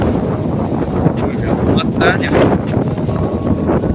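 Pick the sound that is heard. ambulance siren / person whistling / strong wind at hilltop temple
strong wind at hilltop temple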